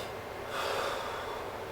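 A patient draws one deep, audible breath in through the nose during a head-to-toe assessment, a soft airy inhalation that swells briefly and fades, close and fairly quiet.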